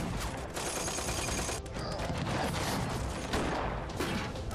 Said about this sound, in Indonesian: Jerman kemudian menembakinya. Dan terjadi baku tembak yang sangat menegangkan.